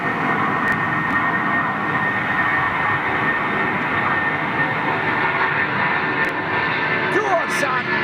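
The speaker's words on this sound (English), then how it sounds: "747 on its way to you." Boeing 747 jet airliner at London Heathrow Airport under a low cloud base, its engines giving a steady, loud broadband roar that holds throughout without breaks, with possible voices faintly mixed in.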